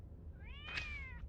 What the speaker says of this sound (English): You're going to have to listen to that cat cry.